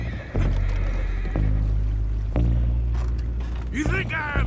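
A horse in the video game Red Dead Redemption 2 gives a loud, rising and falling whinny near the end, over a steady low engine-like hum with a few clunks, and a voice briefly speaks.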